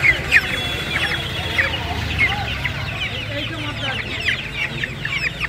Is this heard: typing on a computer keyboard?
no